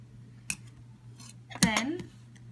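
Scissors make a sharp snip through a crochet yarn tail left after binding off; one clean cut stands out against a soft background hum, with a voice speaking briefly around it.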